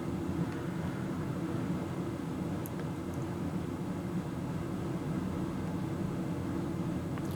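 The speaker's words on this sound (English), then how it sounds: "the furnace just kicked on" A furnace runs in the background as a steady, low broadband rumble and hum that holds evenly at a constant level, with no distinct events standing out over it.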